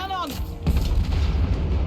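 Cannon fire in the video game Total War: Warhammer 3: a sharp whistling sweep drops into a heavy boom, followed by a dense, rumbling wash of repeated cannon blasts and battle noise.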